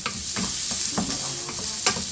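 Garlic and onion sauté in a hot pan for adobo with a constant crackling sizzle, while a spatula scrapes and taps the pan in quick, irregular strokes.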